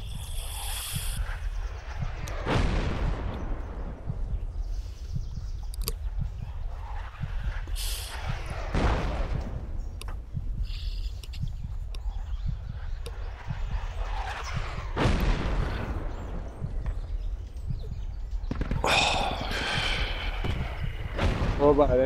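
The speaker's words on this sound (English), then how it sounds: "The mortars are still active." Distant booms of mortar rounds and scattered gunshots across a jungle battlefield in a military shooter, several heavy thumps spaced seconds apart with sharp cracks between, under ongoing voices talking.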